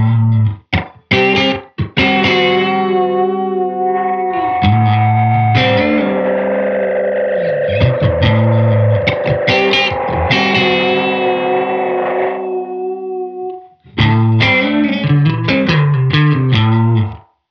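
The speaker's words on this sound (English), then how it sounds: "that gives you that EP3 slapback echo" Guitar run through a Hologram Chroma Console effects pedal set to an EP3-style slapback echo, sounding as a loud, distorted, heavily processed phrase with short repeating echoes and sustained tones, a brief gap, then more picked notes.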